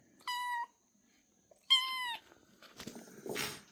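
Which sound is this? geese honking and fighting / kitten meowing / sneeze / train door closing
kitten meowing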